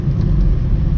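A Honda City 1.2 petrol engine idles at low RPM, giving a steady, continuous low rumble that stays close and even throughout.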